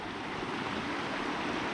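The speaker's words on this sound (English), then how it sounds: "Beautiful little fairy ponds, little waterfalls." Small waterfalls pour steadily beside fairy ponds along the Appalachian Trail, a dense, continuous rush of water heard close and fairly loud.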